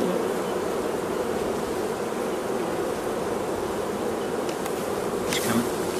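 Honeybees swarming over a hive frame bearing queen cells, a dense continuous buzz close by and steady throughout, with no talk.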